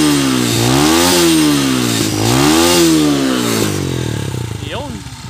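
A motorcycle engine running a newly installed CDI unit revs hard in repeated rising and falling sweeps, loud and close. It winds down near the end, and a voice exclaims over it.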